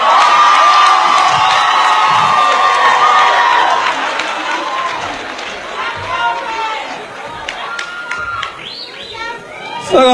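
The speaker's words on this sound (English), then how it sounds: "Another round of applause, ladies and gentlemen." A stand-up comedy audience keeps cheering and shouting after an onstage proposal, a dense, loud roar of voices that eases midway and swells again with a few high whoops toward the end.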